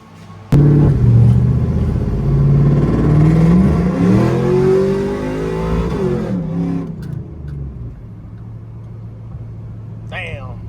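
A Chevrolet Camaro SS, just fitted with a new fuel pump, roars loudly as it accelerates hard and revs through a gear change, then eases to a lower drone as it cruises.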